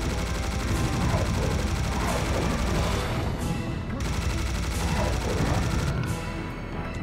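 Sustained heavy gunfire in the shooter Serious Sam: The Second Encounter, inside a grand cathedral, dense rapid shots hammering continuously at close range, with no talk.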